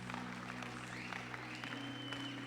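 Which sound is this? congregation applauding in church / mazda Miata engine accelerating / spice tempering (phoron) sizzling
congregation applauding in church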